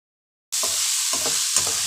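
Salted onions and tomatoes frying in a pan start sizzling abruptly after a short silence, with a few spatula stirs scraping through the steady close hiss.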